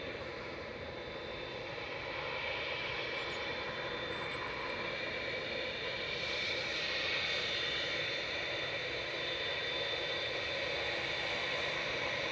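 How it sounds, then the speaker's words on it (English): A Qatar Airways Boeing 787-9 Dreamliner departs Manchester Airport for Doha as heavy traffic, heard as a fairly distant, broad jet roar that builds gradually and holds steady with no voices. "This is A7BHN departing back to Doha with flight 22, 787-9."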